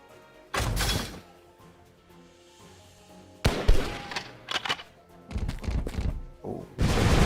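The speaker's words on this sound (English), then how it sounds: "Oh, so it's more like a machine gun, I guess." Machine gun firing in the strategy game Ironclad Tactics, heard as several separate bursts of sharp crackling shots, moderately loud, with quiet gaps between them.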